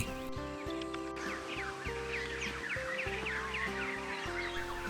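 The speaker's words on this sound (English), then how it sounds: "Hear that dawn chorus, extremely active." Lively dawn chorus of birds, including magpies and butcherbirds, at the Drysdale River in the Kimberley, Western Australia, with many overlapping chirps and calls, steady and busy throughout, over a low constant hum.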